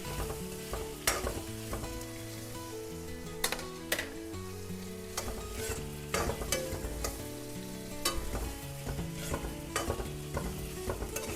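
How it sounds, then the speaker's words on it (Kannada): Tomato masala for masala puri sizzles and fries in a pan while a spoon stirs it, with steady crackling and repeated clinks of the spoon against the pan. "ಇದು ಚೆನ್ನಾಗಿ ಸ್ವಲ್ಪ ಫ್ರೈ ಮಾಡಿದ್ರೆ ಒಳ್ಳೆ ಘಮ ಬರುತ್ತೆ."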